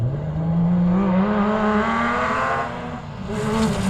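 A rally car racing on Catlins gravel roads in an H6 Cup round, its engine droning loud and close with a steadily rising pitch, then briefly easing before building again.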